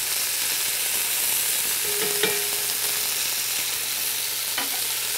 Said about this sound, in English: You see it browning up real nice? Hear that stuff going?